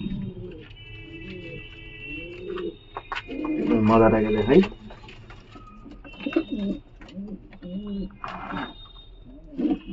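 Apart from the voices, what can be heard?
Jhapar Kashmirduma giribaz pigeons cooing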